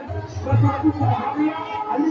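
Dense hubbub of worshippers packed inside Shyama Mai temple in Darbhanga, overlapping voices and shuffling filling the space at close range, continuous and fairly loud.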